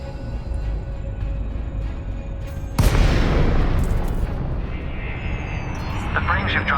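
Frame shift drive disengaging in the space game Elite Dangerous, a loud sudden boom that gives way to a sustained roaring rumble over a steady ship drone, with a voice speaking.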